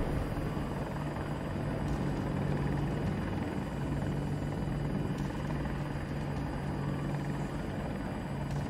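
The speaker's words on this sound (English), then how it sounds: "Oh, the chopper gunner with the guy, Duncan." Helicopter in the shooter Battlefield 2042, a steady loud rotor drone holding evenly from start to finish with no speech.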